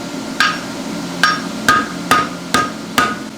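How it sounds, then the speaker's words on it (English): A farrier hammers a horseshoe while forging its second branch, six sharp ringing metal strikes landing in an even rhythm, each with a bright brief decay, close and loud over a low steady background hum. "if you watch my hammer, it's coming down in the same spot"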